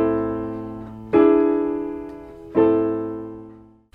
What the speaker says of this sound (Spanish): este quinto grado puede tener una séptima de dominante, y la cadencia auténtica suena así